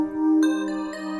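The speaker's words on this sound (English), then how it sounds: "It is woodpecker bells." Woodpecker bells trap loop with a Gross Beat sidechain effect, a bright bell-like melodic tone with pulsing, fading sustained notes, clean and alone.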